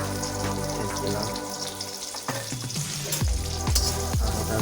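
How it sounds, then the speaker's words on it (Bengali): Chopped onion sizzles in a hot pan, a loud continuous fry heard close, with clattering knocks and a background tone. "পেঁয়াজ কুচি দেবো"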